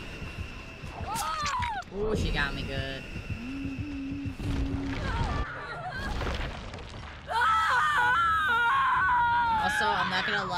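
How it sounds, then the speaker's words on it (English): A survivor character screams in the Dead by Daylight video game, loud strained cries and wails mixed with game effects and rumbling, ending in a louder burst of noisy sound. "The way ASU screams."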